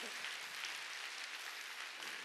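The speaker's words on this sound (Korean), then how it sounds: "박수 치라요. 박수." A church congregation at a summer mountain revival meeting claps steadily for a couple of seconds, the sound faint and distant with no voices standing out.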